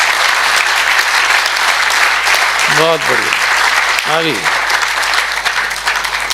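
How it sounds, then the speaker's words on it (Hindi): A loud, sustained round of applause from the audience at a Hanuman katha, dense clapping from many hands filling the whole stretch while a voice speaks briefly over it twice. "जरा जोरदार ताली बजाइए"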